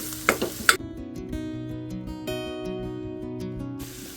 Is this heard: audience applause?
no